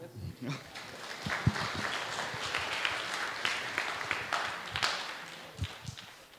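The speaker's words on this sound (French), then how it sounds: "Du coup, beaucoup d'applaudissements pour Shepard, et merci beaucoup." An audience at a conference talk introducing Linux applauds a speaker, with moderately loud mixed clapping running throughout and a few scattered louder claps and low thumps.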